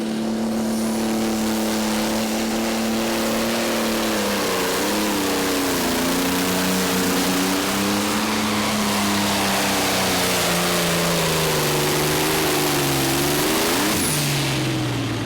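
A pro stock pulling tractor roars loudly and steadily throughout a pull at the NTPA Grand Nationals in Hutchinson, Minnesota, its engine pitch wavering and dipping near the end, with no talk over it.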